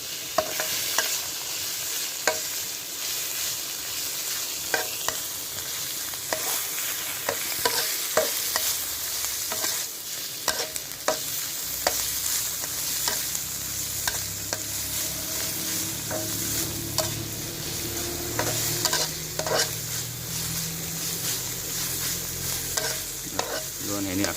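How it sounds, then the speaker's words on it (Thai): Eel stir-fried with fragrant herbs in a pan for a spicy herb dish, a steady sizzle with repeated scraping stir strokes, close and continuous with no talking. "ลงไปผัดนะครับกับ เครื่อง หอมเลย"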